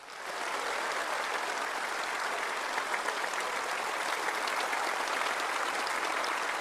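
A large crowd at a formal ceremony honoring Indonesian president-elect Prabowo Subianto applauds in a steady, sustained roar of clapping that swells in quickly and holds evenly throughout, with no clear speech over it.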